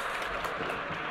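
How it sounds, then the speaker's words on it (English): Audience applause at a college annual awards ceremony, a dense, steady clatter of clapping hands filling the room, brief and moderately loud with no voices on top. "Round of applause for James as well"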